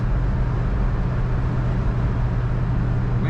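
A 1968 Oldsmobile 442 convertible engine pulling under throttle, a steady low rumble with constant loudness and no voices.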